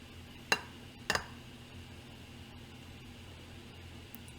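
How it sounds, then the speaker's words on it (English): A spatula scraping chocolate cake batter off a fork into a mug, heard as two sharp clinks of metal on ceramic followed by quiet faint scraping. "take a spatula or a spoon to scrape off any of the extra cake batter off of your fork so that it ends up back in your mug"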